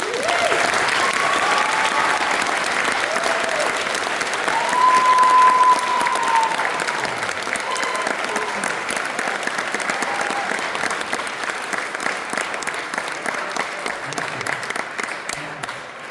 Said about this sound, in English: And we'll give these folks a round of applause together.